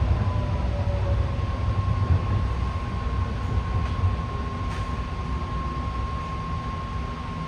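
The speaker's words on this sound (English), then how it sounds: "the power is braking the train when it's in the station" A steady, high electric whine hums over the rumble and hiss of a BART electric train slowing to a stop at Coliseum station, braking under power.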